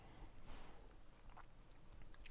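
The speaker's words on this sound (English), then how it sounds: "I will not apologise for the awkward chewing noises." Faint, close chewing and biting, soft moist crunches in a quiet room between stretches of talk.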